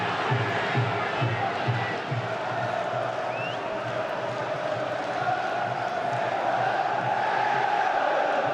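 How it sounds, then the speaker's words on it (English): A large football stadium crowd at an England versus Greece World Cup qualifier drones in a dense, sustained roar, with a rhythmic chant of England, England pulsing steadily beneath the wash of voices. "Crowd desperately trying to fire England up here with cries of England, England."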